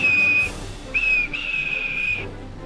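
A high, clear steam engine whistle blows in two long toots, the second held longer, with a soft background hum.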